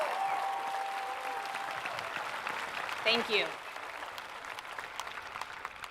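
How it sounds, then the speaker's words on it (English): A large crowd at a high school graduation ceremony applauds, a moderately distant wash of clapping that continues throughout while a speaker briefly talks over it. "Let's give them all a round of applause."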